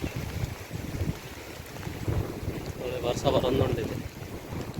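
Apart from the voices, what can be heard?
boat with Honda motor running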